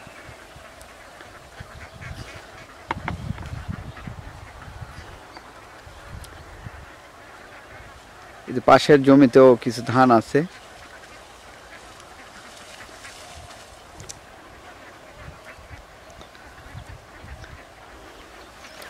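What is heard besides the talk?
ducks quacking while feeding in harvested paddy fields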